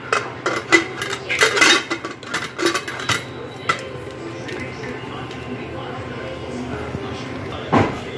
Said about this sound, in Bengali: এবারে প্রেসার কুকারটা ক্লোজ করে দেব।